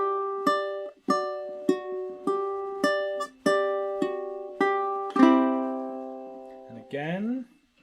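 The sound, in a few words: ukulele playing a riff slowly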